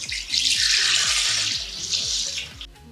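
Liquid pours steadily into a blender jar for a spinach mango smoothie, a bright splashing stream that runs loud and continuous for about two and a half seconds, then cuts off.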